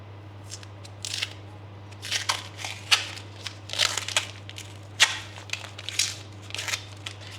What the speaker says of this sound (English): So we'll unwrap this and see what kind of state it's in.